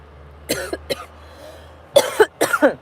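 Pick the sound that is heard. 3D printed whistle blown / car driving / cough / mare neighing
cough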